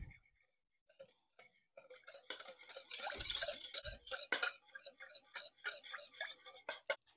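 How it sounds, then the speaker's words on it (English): A whisk scrapes and rattles against a bowl while barbecue chicken meatball sauce ingredients are mixed together, a fairly quiet, busy run of close stirring and clinking strokes that builds after a brief pause. "So now we're going to whisk that together"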